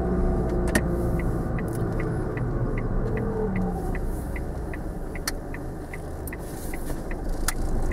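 A car pulling away and turning right on a driving lesson, with steady engine and road rumble inside the cabin and a regular ticking indicator, no voices.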